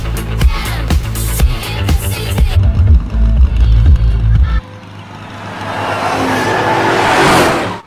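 Racing game engine roar from The Crew, an open-world online racing game, loud and revving with a shift midway into a rushing, hissing wind-and-tire sweep toward the end.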